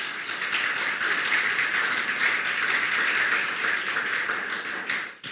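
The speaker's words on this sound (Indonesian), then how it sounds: "Tepuk tangan bagi Tuhan." Church congregation clapping hands in praise for God during a Pentecostal-style worship service, a dense, sustained wash of many hands applauding together, steady and loud throughout before cutting off at the end.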